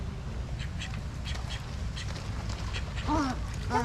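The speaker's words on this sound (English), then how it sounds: "Look how cute that black duck is." Black duck at a bird garden giving quacks amid ambient outdoor noise, a short burst of calls near the end standing out over a steady background.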